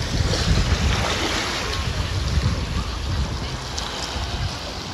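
Calm sea at a Brazilian beach with clear, warm water, a continuous wash of gentle surf mixed with heavy wind rumble on the microphone, close and steady throughout.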